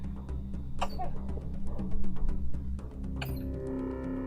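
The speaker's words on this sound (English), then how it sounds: "Coughing a little bit." A pup character in Pathologic HD coughs in a couple of short, sharp bursts, spaced a few seconds apart, over steady game music and ambient hum.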